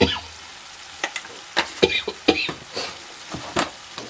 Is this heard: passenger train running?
no